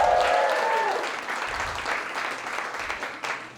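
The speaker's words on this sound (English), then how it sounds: "I also need you to give another round of applause for Junkyard Social" A comedy festival crowd in a small venue claps as a voice trails off at the start, and the applause then continues steadily and closely packed before slowly thinning.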